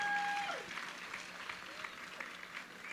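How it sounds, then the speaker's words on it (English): Audience applause for female surf athletes at the Nissan Super Girl Surf Pro contest, a steady, moderately distant clapping wash that holds through the clip, with a voice trailing off briefly at the start. "give a round of applause to these athletes for"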